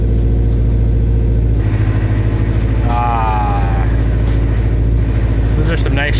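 A car engine with its gearbox stuck in fourth gear drones steadily and loudly throughout, with rising revving tones and a voice heard over it.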